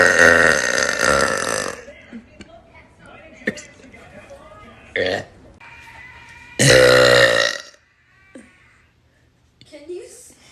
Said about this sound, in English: That sparkling water is strawberry flavored and is making my burps taste like strawberries.